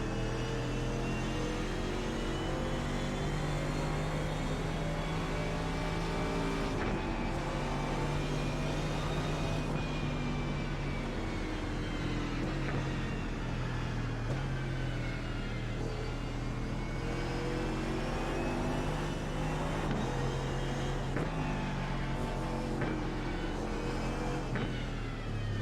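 A car engine, heard near a racing pit, purrs steadily for about 25 seconds with a rich, continuous hum. Its pitch drifts up and down gently as the revs shift slightly, and no one speaks.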